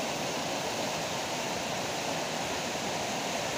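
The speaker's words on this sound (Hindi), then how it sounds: "बहुत ही खूबसूरत मंज़र, गुनगुनाती ये आबशार।" A small waterfall in Buner pours into a little pool, a steady, dense broadband rush of falling water that stays even and continuous throughout, with no voices.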